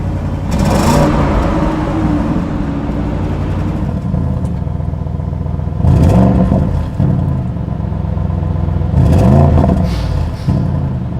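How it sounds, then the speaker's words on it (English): Audi RS Q8 performance SUV engine revving steadily under load, with three louder throttle blips or surges spaced through a continuous mid-pitched drone, fairly close and with no talking. "You guys will hear the Audi Q8 RS first,"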